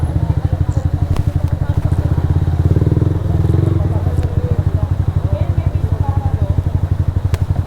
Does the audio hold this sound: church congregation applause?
no